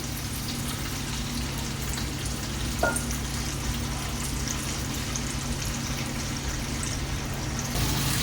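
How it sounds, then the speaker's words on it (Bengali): Chicken pakoras frying in hot oil at home, a steady, even crackle and sizzle running the whole time at moderate volume, with a brief clink partway through and no voices. "আমি এদিকে গরম পকোড়াগুলো ভাজে থাকি"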